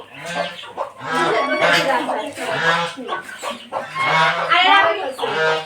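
Chickens cluck loudly and close on a farm keeping ducks, chickens and cattle, a busy overlapping run of clucks and squawky calls that carries on without a break.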